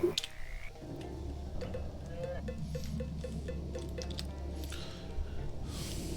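A frog croaks in a video game, a soft wet repeated croak over a steady low game ambience and music.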